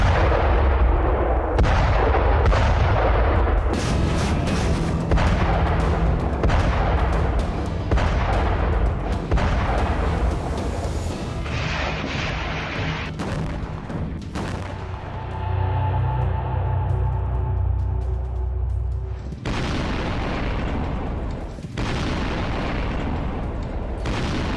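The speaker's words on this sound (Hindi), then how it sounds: "आसमान से एयर स्ट्राइक, जमीन पर आग उगलते टैंक और रॉकेट लॉन्चर।" Sustained war barrage of artillery fire with air strikes, tanks and rocket launchers in the Russia–Ukraine war: dense, loud rolling booms and bursts, continuous across the clip with heavy low rumble and no pauses.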